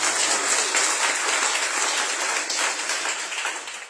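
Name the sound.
loud clapping in church for Jesus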